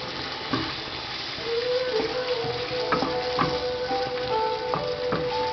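Chicken curry with coconut milk is stirred in a pan, a utensil scraping and clicking against the pan in repeated strokes over a soft bubbling sizzle, close and moderately quiet.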